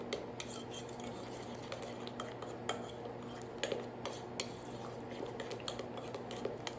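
Dutch baby pancake batter being mixed by hand, a utensil clinking and scraping steadily against the bowl in quick repeated strokes, close and fairly quiet, with no talking.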